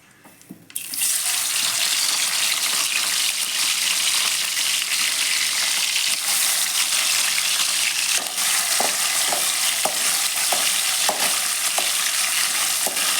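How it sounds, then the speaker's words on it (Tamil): Paneer dropped into hot oil for paneer butter masala, a loud, dense sizzle bursting in after a quiet start and holding steadily close up, with occasional soft clinks from the pan. "எண்ணெய் சூடாயிருச்சு இப்போ நம்ம பன்னீரை போட்டுக்கலாம்"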